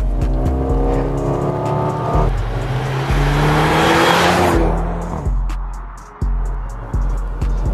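A Mercedes-AMG GLA35's turbocharged engine revs hard through the gears, its dual-clutch transmission firing sharp crackling pops on each quick upshift, loud and close from inside the cabin.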